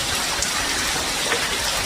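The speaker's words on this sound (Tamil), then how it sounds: "பேஞ்சிக்கிட்டே விடாமல் பெஞ்சிட்ருக்கு" Heavy, continuous rain pours down in Sivakasi, a dense, unbroken wash of drops hitting surfaces at close range with no letup.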